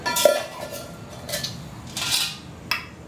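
Metal parts of a Bushcooker LT II wood-burning, multi-fuel camp stove by 4Dog Stoves clink and rattle as it is handled, in several sharp, close bursts spread across quiet pauses.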